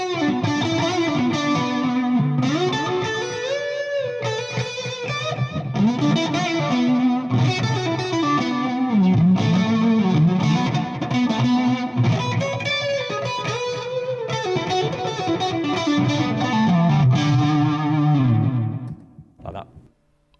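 Fender Stratocaster electric guitar played through effects pedals and an amp, a distorted, chorus-tinged lead solo of sustained and bending notes running continuously for about eighteen seconds before fading out.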